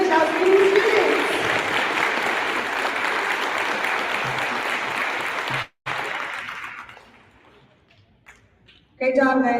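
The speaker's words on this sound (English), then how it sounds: "Let's give a round of applause for English outstanding students." An audience at a sixth-grade awards assembly applauds English outstanding students with loud, continuous clapping for about six seconds, then it drops away to near quiet before a voice starts speaking.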